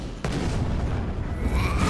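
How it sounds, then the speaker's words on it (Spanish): An explosion effect from the Hearthstone card game bursts with a sharp attack, then a dense, noisy roar that rumbles on without a break, loud and close. "Explosión, vale."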